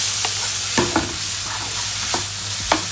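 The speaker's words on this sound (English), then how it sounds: "Then mix it very well." Vegetable noodles tossed with soy sauce and tomato ketchup in a hot pan, with a steady close sizzle and repeated scraping strokes of the stirring utensil, loud and continuous with no voices.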